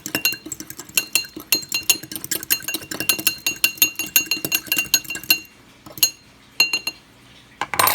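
A utensil stirs OxiClean powder into hot water in a container, giving a steady run of bright clinks and taps against the sides, fairly close, then a few slower, scattered knocks with gaps between them.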